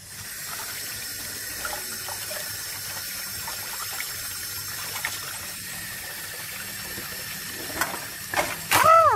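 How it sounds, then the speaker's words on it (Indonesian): Tap water runs steadily into a sink as frangipani flowers are washed, a continuous close hiss and splash, with a brief louder burst of sloshing near the end. "Ini aku cuci, aku rendam dulu bentar aja."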